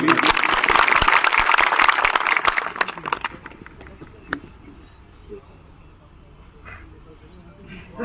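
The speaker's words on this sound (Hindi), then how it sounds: "इन दोनों युवा साथियों के लिए प्लीज एक बार जोरदार ताली" Loud crowd applause at a political rally in India fills the first three seconds with dense clapping, then fades to scattered claps and murmuring background noise.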